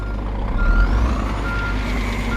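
Truck reversing alarm in the On The Road truck simulator game, a steady repeating electronic beep over a constant low engine rumble, fairly close and alone without talk.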